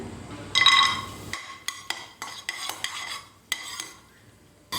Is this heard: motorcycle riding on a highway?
no